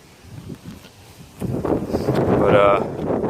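Strong wind gusts blow through a yard as Hurricane Irma approaches, rising from a low rumble into a loud, sustained roar of buffeting against the microphone, with a voice speaking faintly partway through.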